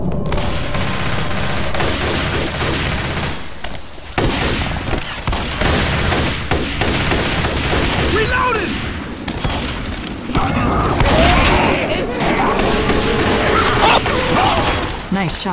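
Dense, continuous gunfire and booming blasts from a Left 4 Dead 2 zombie-shooter match, close and loud throughout, with players' voices calling out over the shooting.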